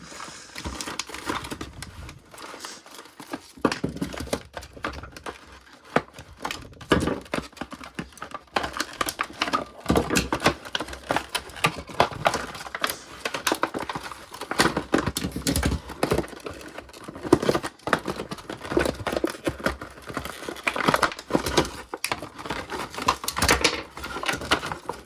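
Crinkly plastic packaging of ratchet tie-down straps being cut open with scissors, a long run of irregular snips, rustles and crackles close by, with brief clicking handling noises.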